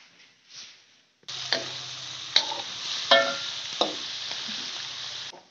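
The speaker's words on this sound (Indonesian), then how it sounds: "Dan goreng pisang teman-teman semua" Bananas frying in a pan of hot oil give a steady broadband sizzle that starts abruptly, with a few sharper pops and spatters standing out above it, close and moderately loud, with no talking.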